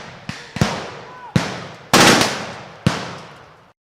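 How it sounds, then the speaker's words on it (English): Gunfire in a film battle scene as squads advance: a handful of sharp, loud shots and bursts spaced irregularly, each ringing out briefly, with a heavier volley near the middle. "once I raised this up, gunfire got incredibly loud"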